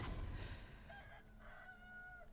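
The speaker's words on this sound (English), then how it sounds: "Okay, there is a chicken there." Chickens cluck in Sekiro: Shadows Die Twice, a few short clucks and warbling calls at a fairly quiet level over soft game ambience, with no talking.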